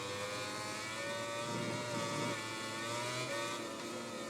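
Motorcycle engine in the MotoGP 20 racing game, a loud, steady, high-pitched whine that holds near-constant pitch with slight rises, joined by the drone of other bikes in the race and no talk.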